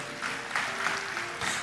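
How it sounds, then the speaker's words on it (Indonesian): A church congregation claps together in steady, dense applause, close and sustained, with a few voices mixed in. "Tepuk tangan buat Tuhan Yesus."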